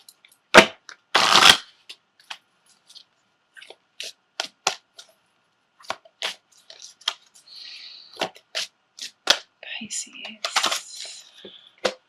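Tarot card decks being shuffled by hand, crisp papery riffles and snapping bursts in irregular clusters, close and fairly loud, with quiet pauses between them and no talking.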